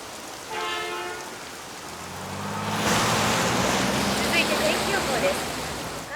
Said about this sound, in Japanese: 비가 추적추적 내리던 어느 날